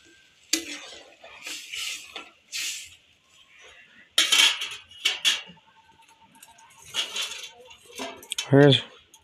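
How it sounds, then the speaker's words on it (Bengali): A metal lid set down on a cooking pot of fish curry with bitter gourd gives a few clattering clinks and a short ringing knock near the end, amid scattered kitchen clatter and faint voices. "এবারে আমি ঢাকা দিচ্ছি, কিছুক্ষণ পরে খুলে দেব"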